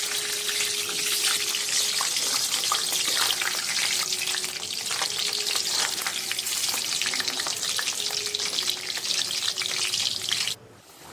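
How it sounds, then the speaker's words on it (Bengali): Potatoes cut for mutton biryani frying in hot oil, giving a steady, loud sizzle that runs unbroken for about ten seconds and then cuts off sharply near the end. "আলুগুলো ভেজে নেব।"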